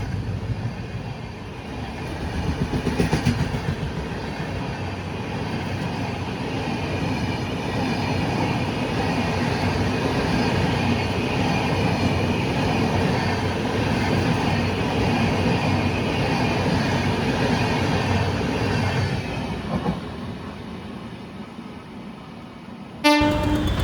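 A Jan Shatabdi Express from KSR Bengaluru to SSS Hubballi passes on the opposite track, a sustained loud rumble and rail clatter heard from aboard another train, with a short horn toot near the start and an abrupt burst at the end.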